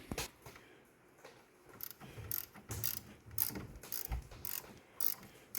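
A gear wrench ratcheting to break loose a bolt on a Honda Pioneer 1000-5 front suspension near the brake caliper: repeated bursts of close, dry clicking over several strokes, with no talk.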